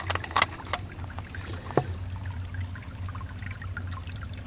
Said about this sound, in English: I'm going to go ahead and fill this up as well.